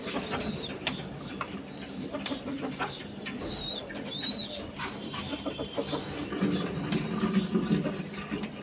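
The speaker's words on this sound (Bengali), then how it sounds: "একটা দামাসিন কবুতর, দামাসিন নর।" A male Damascene pigeon coos in a loft among other pigeons, its soft low cooing recurring under steady bird chatter and occasional higher chirps throughout.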